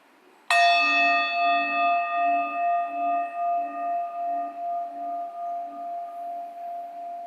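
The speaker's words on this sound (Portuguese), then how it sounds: "Deixa que o som do sino seja um sinal para você relaxar." A single meditation bell is struck once and rings out clearly, its bright tone sustaining and slowly fading over several seconds in a quiet room.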